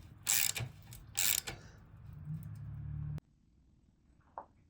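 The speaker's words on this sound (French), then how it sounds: "Le collier pareil, hein, on le serre modérément." A ratchet tightens a clamp on a Triumph Street Triple 675 R during reassembly: two quick bursts of rapid clicking up close, then a softer mechanical whir that stops abruptly, with a faint tap afterward.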